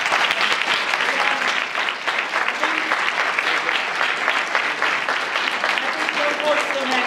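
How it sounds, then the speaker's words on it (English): A college audience gives sustained, dense applause, loud and even throughout with a crowd murmur beneath and a few faint voices mixed in. "So you guys give them a round of applause."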